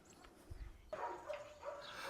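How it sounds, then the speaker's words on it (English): Excited dogs bark and whine faintly in the distance, a few short yips over a quiet background, during scent training of a puppy for mushrooms, deer and antlers. "Apologize about the excited dogs in the background."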